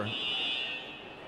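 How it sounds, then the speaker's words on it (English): A fire alarm sounds inside a wrestling venue, a steady high-pitched electronic buzzing tone that fades partway through, with crowd noise and talk beneath it. "We got fire alarms going off in here."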